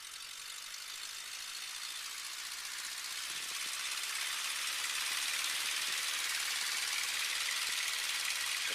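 Light aircraft engine running steadily at high power, a loud, continuous droning hum heard from inside the cockpit with no talking.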